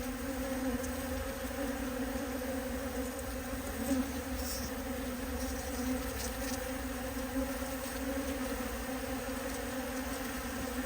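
A dense, steady buzzing of many bees at a poly hive, continuous and fairly close, with a constant low drone throughout and no voices.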